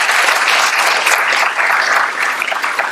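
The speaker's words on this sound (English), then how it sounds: "give yourselves a round of applause" An indoor audience at the ribbon cutting for the new UM Capital Region Health hospital claps together, a loud, close, continuous burst of many hands with slight swells and dips and no talking over it.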